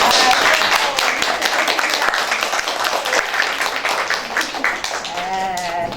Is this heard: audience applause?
yes